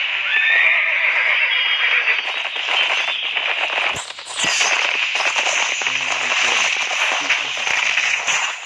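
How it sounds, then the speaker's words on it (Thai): Cavalry horses charging in the medieval video game Steel and Flesh 2: loud whinnies and neighs over a dense rumble of hooves, clashing and battle crackle, a continuous close wall of sound with a brief dip midway. "ทหารม้า ชาร์จเลยทหารม้า"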